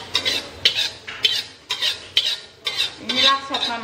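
Fried spices and their oil being stirred into a pot of soup, a spoon or utensil scraping and clinking against the pot in repeated strokes, close and fairly loud, with no talking.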